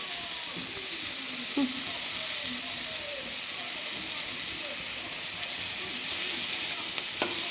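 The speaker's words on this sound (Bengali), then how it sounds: "একটু সামান্য হলুদ গুঁড়ো দেবো, আর একটু নেড়ে লবণটা দিয়ে দেবো।" Vegetables being stirred in a pan with turmeric and salt, a steady sizzle with soft scraping, a few sharp utensil clicks against the pan and a faint voice in the background.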